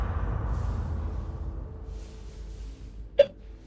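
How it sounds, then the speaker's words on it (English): A single sharp hiccup near the end, close and distinct, following a few seconds of quiet low background hum. "Oh dear, I have the hiccups."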